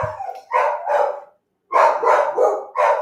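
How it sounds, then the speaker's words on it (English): Several dogs barking in short repeated bursts inside a home, loud and close, with a brief pause between volleys. "They're going to bark."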